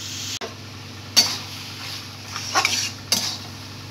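Cabbage with hilsa fish head sautéed in a pan, with a few scattered clinks and scrapes of a spatula against metal over a soft, low frying hiss, close up and with no talking.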